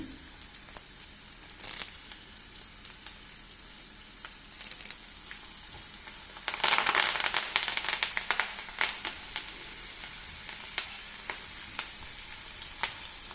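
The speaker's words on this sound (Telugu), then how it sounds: "దోరగా వేగనిద్దాం" Steady sizzling of spices, turmeric and curry leaves frying in hot oil for a tempering, with crackling pops and a louder burst of spattering partway through, no voices.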